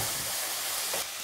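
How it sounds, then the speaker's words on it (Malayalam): Shallots and tomato sautéing in a pan for a Kerala egg theeyal, giving a steady, close hiss of frying with soft stirring texture throughout the short stretch. "ചെറിയ ഉള്ളിയും ടൊമാറ്റോയും നന്നായിട്ട് വഴണ്ട് വന്നിട്ടുണ്ട്."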